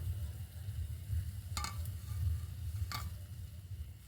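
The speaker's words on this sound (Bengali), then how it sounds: "এই পিঠেগুলো ভাজতে কিন্তু একদমই বেশি সময় লাগে না খুব তাড়াতাড়ি ভাজা হয়ে যায়" Pitha cakes fry in hot oil with a low, steady bubbling hiss, broken twice by brief clinks of a utensil against the pan, with no talking.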